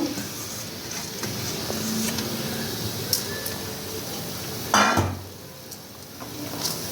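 Washed lentils fry with spices in oil in a pan, giving a steady close hiss of sizzling with occasional utensil scrapes and one sharper clatter partway through.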